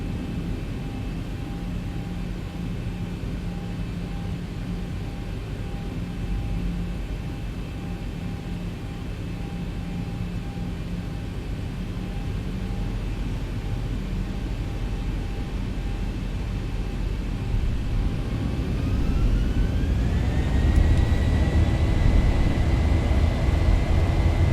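An airliner in a flight simulator spools up for takeoff from runway 28, a steady droning engine hum that swells louder and rises in pitch toward the end as power increases, with no talking.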